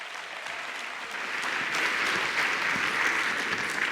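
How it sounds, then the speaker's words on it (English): Enthusiastic applause from a crowd at an awards ceremony, steady and dense, swelling a little after the first second and staying strong to the end. "Let's give another round of applause for everyone who has won an award today"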